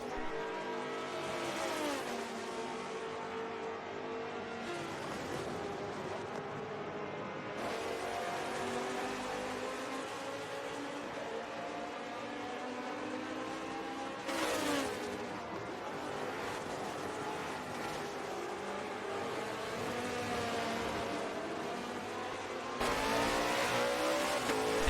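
Race cars in a GT championship video game at Silverstone, including a Jaguar, accelerate with steady, layered engine roar, rising revs and occasional tire squeal across the whole stretch, loud and continuous with gear-shift breaks.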